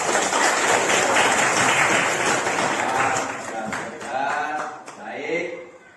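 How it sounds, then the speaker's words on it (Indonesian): A classroom of students claps together in a loud, dense burst of applause that fades out unevenly over several seconds, with voices and chatter rising as it dies away. "Tepuk tangan untuk semuanya"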